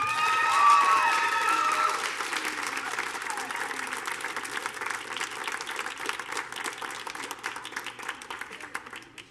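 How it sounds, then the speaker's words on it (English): An audience applauds steadily, with dense overlapping clapping that tapers slightly over several seconds, plus faint crowd noise. "another round of applause."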